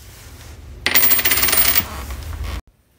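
Quarters drop onto a hallway floor in a sudden bright jingling clatter that rattles on for about two seconds, then stops abruptly into silence.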